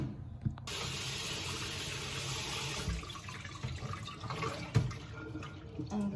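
Kitchen tap water runs steadily into a sink while items are washed, a continuous hiss and splash with a few brief clatters and knocks, close and moderately loud, no talking.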